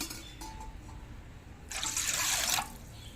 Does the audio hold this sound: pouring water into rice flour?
yes